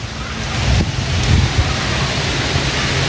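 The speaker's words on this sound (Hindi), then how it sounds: "हैवी बारिश" Heavy rain pours down outdoors at a zoo in Lucknow, a loud, steady broadband wash with gusty wind buffeting the microphone; no distinct thunder clap stands out.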